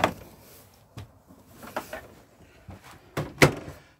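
Door of a 2010 Coachman Amara 380/2 caravan opening and closing as someone steps inside, several sharp thunks and rattles spread across the clip, the loudest slam near the end, close and with no talking.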